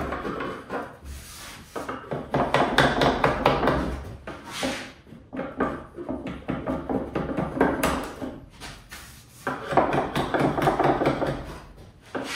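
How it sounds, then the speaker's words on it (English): Repeated scraping strokes of a metal chisel across wood, removing rough glue, rough and close, in uneven bursts with short pauses between passes. "So to get the rough glue off, what I'm going to do is just use a chisel"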